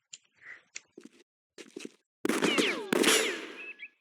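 Gunfire in the video game Jagged Alliance 2: a few soft clicks and shuffling sounds, then two loud, close, ringing shot bursts with metallic debris and echoing tails.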